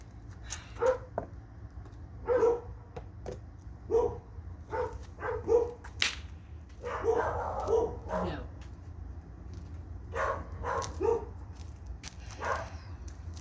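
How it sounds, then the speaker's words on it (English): Dogs bark in short, scattered bursts at a moderate distance, some yips mixed in, over a low steady hum. "Apologies for the barking dogs."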